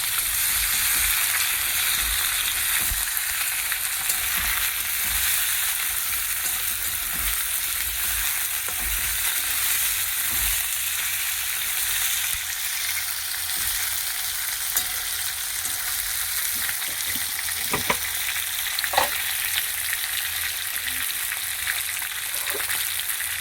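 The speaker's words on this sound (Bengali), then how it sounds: "মাংসটা দিয়ে ওর সাথেই ভালো করে ভাজবো" Chicken pieces fry with browned onions in a hot pan, a steady close sizzle and crackle running continuously, with occasional stirring scrapes and clinks.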